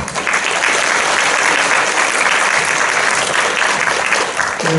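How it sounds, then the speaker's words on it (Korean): A lecture audience at an orthodontics seminar applauds the speaker, a loud, dense and steady round of many people clapping that fills the room evenly throughout, with no talking over it. "훌륭한 강연을 해주신 최강철 원장님께 다시 한번 박수로 감사드리겠습니다."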